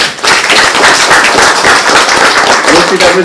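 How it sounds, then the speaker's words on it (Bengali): Loud, dense applause from an audience honouring contest participants, a continuous clatter of many hands lasting over three seconds, close and full. "তাদের সবার জন্য একটা হাততালি"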